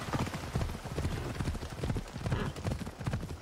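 A horse gallops at speed in Assassin's Creed Odyssey, with rapid rhythmic hoofbeats, close and fairly loud, in repeated clusters across the whole stretch.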